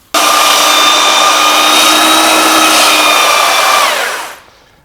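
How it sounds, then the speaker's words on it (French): Floor sanding machine working over varnished parquet, a loud, close, steady whining roar that holds for about four seconds and then winds down abruptly to near silence. "c'est la machine qui ponce, c'est pas vous."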